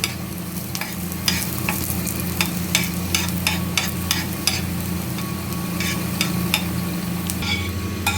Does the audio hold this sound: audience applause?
no